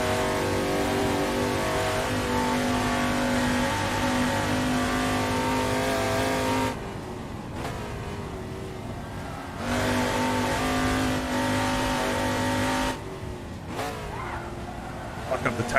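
Touring car engine in an Assetto Corsa race at Goodwood, loud rising and falling revs with gear changes and brief lifts off the throttle, someone talking over it at times.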